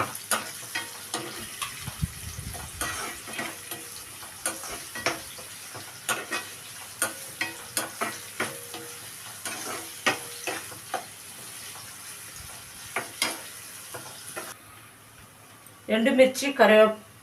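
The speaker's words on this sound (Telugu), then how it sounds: "ఉల్లిపాయ ముక్కలు, పచ్చిమిరపకాయ ముక్కలు బాగా వేపుకోవాలి." Chopped onion and green chilli pieces fry in a pan with a low, steady sizzle, broken by repeated clicks and scrapes of stirring, while a voice talks over the cooking.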